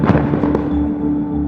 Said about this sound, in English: And that noise you're hearing is gunfire.